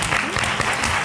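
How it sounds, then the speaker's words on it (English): Audience applause at a Black women's history and politics event, a dense, steady wash of clapping from a room full of people, loud and continuous without any talk over it. "Please give her a round of applause."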